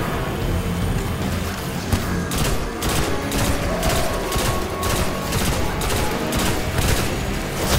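Gunfire in Destiny: Rise of Iron, loud, dense and rapid bursts of shots repeating almost continuously with booming impacts, no talk.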